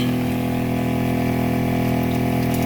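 A gas tankless water heater runs with water flowing through it, giving a loud, steady rushing hum with a constant droning tone and no pauses or talk.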